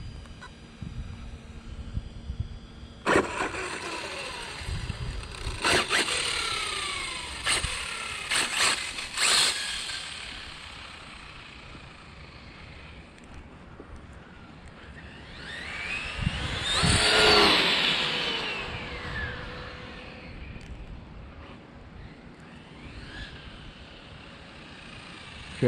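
An XTM XT2E radio-controlled car with a new motor revs in quick bursts, then whines past loudly mid-clip before fading back, heard from a moderate distance.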